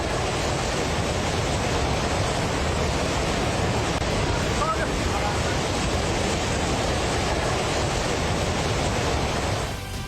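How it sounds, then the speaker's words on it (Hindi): Flood waves surging past buildings in Nepal, a dense, continuous rushing roar of water that stays loud and unbroken throughout, heard without voices. "अचानक इमारत के पीछे से आई सैलाब की विनाशकारी लहरें और मच गया कोहराम।"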